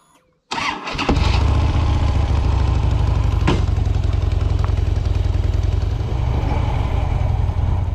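Custom motorcycle engine starting after a brief quiet moment, then settling into a loud, close, throbbing idle that runs steadily before the ride sets off.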